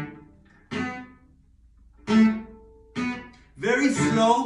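Slow, scratchy cello bow strokes from a bowing exercise with a coin on the wrist: four separate rough, gritty strokes with quiet gaps between them. The last stroke is the longest and noisiest, played close and alone.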